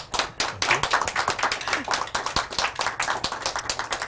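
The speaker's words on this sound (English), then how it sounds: "we give her a round of applause" An audience claps and applauds for a few seconds after a presentation, dense overlapping handclaps, with a voice speaking briefly over them.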